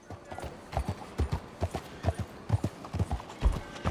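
Horse hooves clip-clop in quick, uneven beats in the video game Red Dead Redemption 2, a close, steady run of hoof strikes with faint background sounds.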